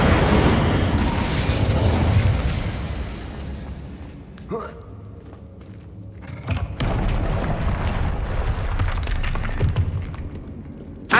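Spell blasts from Confringo and Incendio in Hogwarts Legacy, the video game: loud crackling bursts and booms, with sharp impacts near the middle, over a busy bed of game sound and voices.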